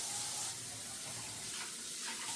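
A kitchen tap runs steadily while potatoes are rinsed under it, a constant close splashing rush of water with no pauses and no talking.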